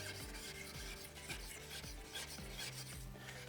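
Hard food stains are scrubbed off an electric cooktop with rhythmic rasping strokes, close and steady, about two strokes a second, with no talking.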